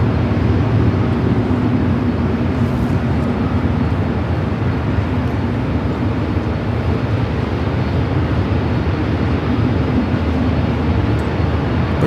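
An Air Tahiti Nui airliner bound for Paris takes off from the north side at LAX, heard as a loud, steady, broad engine roar that holds without letup and with no voices.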